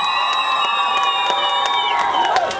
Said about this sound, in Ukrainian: Ваші аплодисменти Ірі.